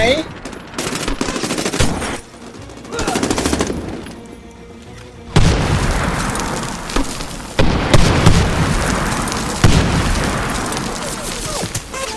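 Heavy, chaotic combat in Medal of Honor: Warfighter on PS3: loud blasts and rapid gunfire bursts, with a sharp booming grenade explosion around the middle followed by continued dense firing.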